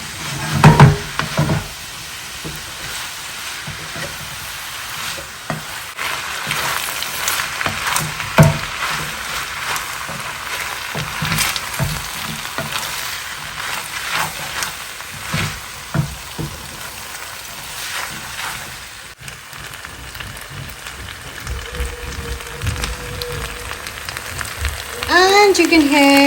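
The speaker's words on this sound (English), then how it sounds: "mix it really well and let the noodles heat through too" Chicken and vegetable noodles sizzle and crackle in a pan while being stirred, a steady hiss with scattered scrapes and clatters, moderately loud, with brief background voices.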